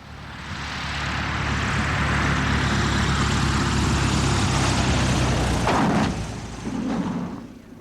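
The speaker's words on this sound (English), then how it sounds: "These days, she flies a Cessna 182, the simple, lightweight workhorse of general aviation." A Cessna 182 light single-engine propeller airplane drones steadily and loudly, its engine hum swelling in over the first second, holding for several seconds, then dipping with a brief shift in tone near the end.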